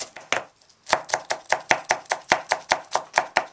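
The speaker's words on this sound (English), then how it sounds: "half you can chop it small pieces" An onion is chopped into small pieces with a knife on a board, giving crisp, evenly spaced thuds close up. A brief pause comes early, then a steady run of about a dozen cuts with no talking.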